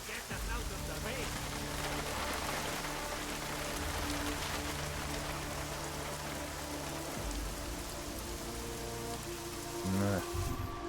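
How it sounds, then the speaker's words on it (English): Steady heavy rain in the video game Deus Ex: Mankind Divided, a dense continuous hiss of drops on surfaces under a low droning hum, with a brief thump near the end. "At least get us out of the rain."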